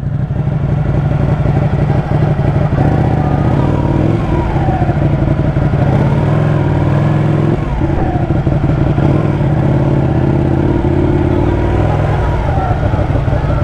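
A Ducati motorcycle engine idles and rumbles steadily up close, a constant low throb with slight revving, running the whole time without any voices.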